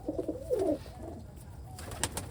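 A pigeon coos close by in a short, warbling phrase, followed by quieter background rustle.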